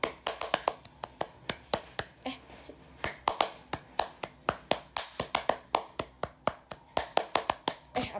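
Rhythmic scout-style clapping (tepuk pramuka) by hand, a fast patterned sequence of sharp claps and snaps repeating steadily throughout, close and crisp with no talking.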